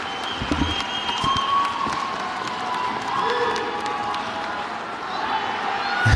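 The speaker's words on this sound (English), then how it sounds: "give them a great round of applause" Graduation audience at a high school ceremony applauding and cheering, a broad steady wash of clapping and crowd noise throughout with voices mixed in.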